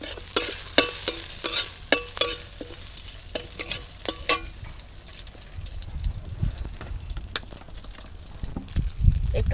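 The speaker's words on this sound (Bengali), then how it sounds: "কিন্তু তাও আমরা একটুখানি সাঁতলে নেব এটাকে। এইগুলোকে একটু ভেজে নেব।" Brinjal and tomato fry in a pan with a steady sizzle, broken by a series of sharp stirring clacks and scrapes early on, then softer, irregular stirring and low clatter toward the end.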